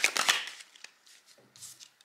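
Oracle cards are shuffled by hand in a string of brisk, papery riffling bursts at close range, with a short pause and a few soft handling sounds before the shuffling picks up again.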